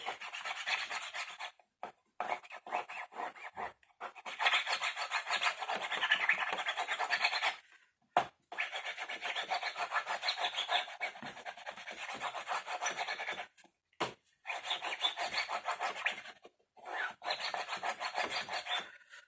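Material being rubbed firmly onto a vintage suitcase so it adheres, heard as close, dry scraping strokes in long bursts separated by short pauses, fairly quiet with no voices.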